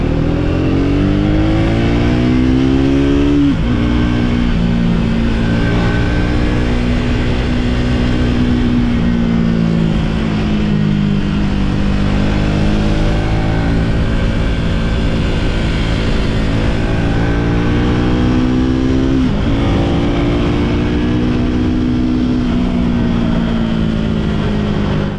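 Triumph Speed 400 motorcycle engine droning steadily while riding, its pitch rising and falling through gear changes and acceleration, loud and continuous with no voices.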